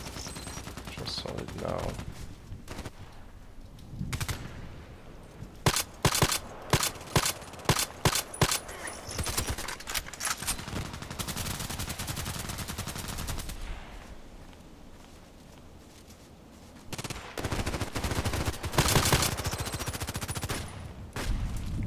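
Gunfire from an enemy in a video game, with bursts of rapid automatic shots and single cracks scattered over the stretch, some loud and close, others softer, while someone speaks briefly.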